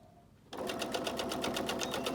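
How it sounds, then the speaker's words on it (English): A sewing machine starts up abruptly and stitches a fabric face mask in a fast, steady mechanical whir with a regular pulsing rhythm, close and alone. "try to not to sew over those pins"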